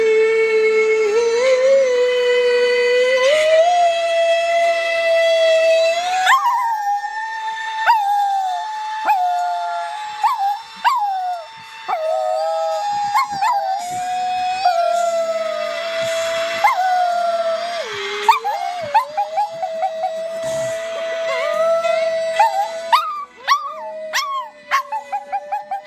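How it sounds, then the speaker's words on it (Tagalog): A pet dog named Jackie howls and yips along with a person singing a Filipino love song, its long wavering howls close and loud, rising and falling with the melody for the whole stretch, breaking into short whimpers near the end. "Galing naman ang aso ko kumakanta."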